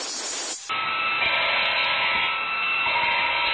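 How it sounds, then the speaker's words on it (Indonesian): Steady, loud abrasive hiss of sanding across thin welded iron, running continuously after a brief opening burst of noise, with no voices. "di sini kita akan amplas dan lihat hasilnya ya"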